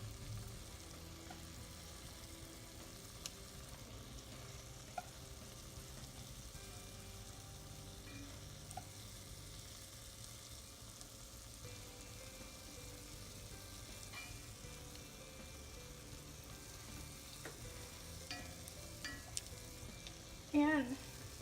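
Spicy tofu fries quietly in a pan, a faint steady sizzle with occasional soft stirring clicks and a louder scrape near the end.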